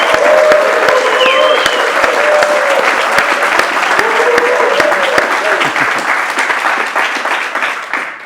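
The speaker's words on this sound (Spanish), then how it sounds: "voy a pedir al público que está con nosotros que partamos con un aplauso grande" A studio audience on a Chilean talk show breaks into big, enthusiastic applause, many hands clapping loudly with sharp individual claps and a few cheers and voices, tapering off toward the end.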